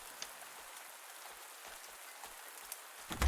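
Steady rain pours down in the farming video game Pumpkin Days, with a dense, even hiss and faint scattered drops, then a brief louder rustle at the very end.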